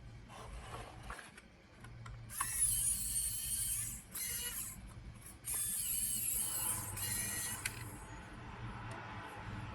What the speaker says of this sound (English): So now I just gonna put the screws in.